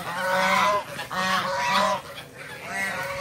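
Geese honk loudly in a rural Barisal, Bangladesh setting, repeated bursts of nasal honking in a close, noisy flock with short gaps between calls.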